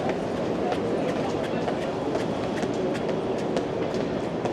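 A train pulling into a station platform, a loud continuous rolling rumble with rhythmic clicking of wheels over rail joints.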